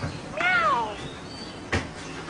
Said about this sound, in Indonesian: Kucing orang sebelah kot.